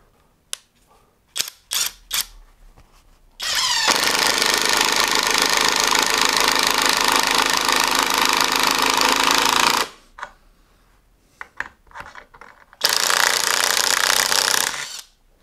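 Uaoaii 650Nm cordless impact driver driving large screws: a few short clicks and taps, then a long loud continuous hammering burst of about six seconds, a pause with small knocks, and a second loud burst near the end.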